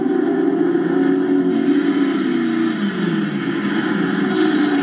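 A Touring Car Masters race car, such as a Camaro or Falcon, roars past at Darwin with a loud, steady engine drone that holds for several seconds and eases slightly as it goes by.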